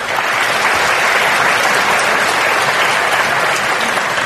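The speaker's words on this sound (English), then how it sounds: "that's the first question to get a spontaneous round of applause" Spontaneous audience applause at a Q&A session of a writers festival in Melbourne, a dense, steady wash of many hands clapping at full volume throughout, with no voices rising above it.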